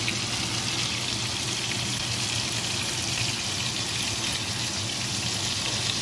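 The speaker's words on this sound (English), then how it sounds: "They're cooking away and sizzling." Steady, dense sizzling of Italian meatballs frying in a pan, loud and continuous without pause.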